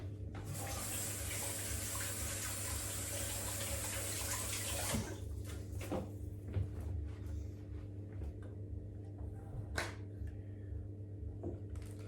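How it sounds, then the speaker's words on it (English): Tap water runs steadily into a sink while hands are washed, a close hiss for several seconds, then stops, leaving faint drips and light handling knocks in a quiet room. "let me wash my hands and I'll give you a close up"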